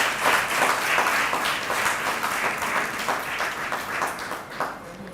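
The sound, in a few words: audience applauding the women at milk bank inauguration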